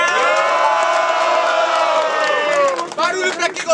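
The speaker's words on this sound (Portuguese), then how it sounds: "muito barulho pra quem gostou das rimas do Yong" A crowd at a Brazilian street rap battle cheers, whoops and shouts loudly and continuously after an MC's verses, with the roar growing more ragged toward the end.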